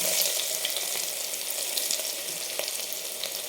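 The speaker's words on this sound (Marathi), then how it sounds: "जिरे टाकून झालं की हा जो आपण ठेचून घेतलेला लसूण होता तो टाकून घेऊ" Cumin seeds and crushed garlic sizzle steadily in hot oil for a mung bean husk amti, a dense, close crackling hiss with a few sharper pops and no voices.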